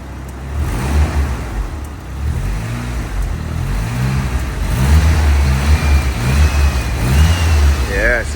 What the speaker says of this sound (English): Give it a little rev, Eddie.